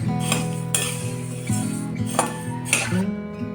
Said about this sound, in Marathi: तर धने भाजून घेऊया